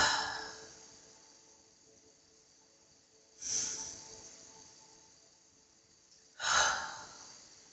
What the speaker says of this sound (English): 3 more breaths like that